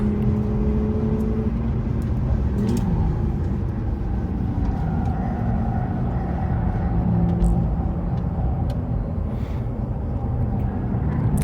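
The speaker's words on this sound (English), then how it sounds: "I hope you can hear the motor." A classic car's engine idles and runs steadily with a low rumble throughout, some other traffic noise around it.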